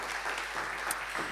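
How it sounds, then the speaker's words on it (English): Quiet, steady applause for a panel speaker at a sustainability tourism conference, a brief continuous patter heard from a distance. "Round of applause, thank you very much"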